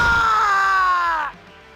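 A loud scream of pain from a character in Devil Survivor Overclocked, a single sustained cry that holds, then drops off abruptly into quiet.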